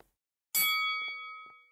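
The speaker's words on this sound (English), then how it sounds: "Let's ring the bell." A bell in the video game Casino Tycoon rings once with a sharp, bright strike that leaves a long sustained metallic ring slowly fading away, heard alone.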